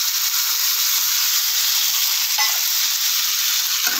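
Water from ground spice paste hits a hot frying pan while fish curry with cauliflower cooks, a loud steady sizzle and hiss with a couple of brief sharper spatters, no voices.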